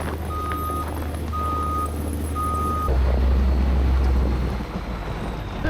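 Heavy machinery working in deep snow, a plow truck and a big front-end loader, gives a steady low engine rumble. Three evenly spaced reversing beeps sound over it before the engine note swells and grows louder nearby, with wind in the background.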